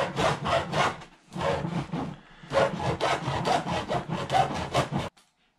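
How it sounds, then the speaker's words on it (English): Hacksaw cutting through a Jeep TJ fuel hose, a run of quick rhythmic rasping strokes with a short pause near the start, close and loud, ending abruptly. "So I marked my hose right here, take a hacksaw,"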